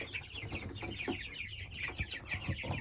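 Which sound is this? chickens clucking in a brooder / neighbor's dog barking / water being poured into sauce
chickens clucking in a brooder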